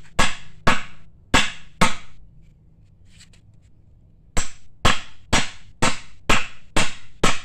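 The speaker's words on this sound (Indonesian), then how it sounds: "Dipukul dengan palu supaya ujung bambu atau ujung balok itu rapat masuk ke dalam bambu" A hammer strikes a bamboo stand for a painting or photo, driving a wooden beam end into the bamboo tube: four sharp, loud close knocks at a steady pace, a pause, then seven more evenly spaced blows.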